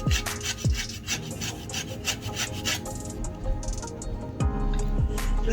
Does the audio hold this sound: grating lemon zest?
yes